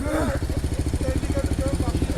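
A BMW motorcycle engine runs close by with a steady, rapid pulsing throb that holds level throughout, while a person talks briefly over it at the start.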